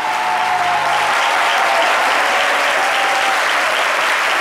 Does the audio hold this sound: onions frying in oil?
no